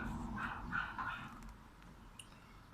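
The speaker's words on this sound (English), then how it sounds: "So I think the dogs are locked up." Dogs barking and yipping from a distance, a few short muffled barks and whimpers in the first second or so, then quieter background, heard at a house while roofers are working.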